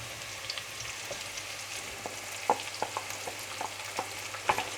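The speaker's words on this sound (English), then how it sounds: "now that the potatoes are starting to get a little bit of color, it's time to add the onions." Onions added to a pan of potatoes frying for corned beef hash, a steady close sizzle with scattered crackles and a few louder pops and stirring clicks, no talking.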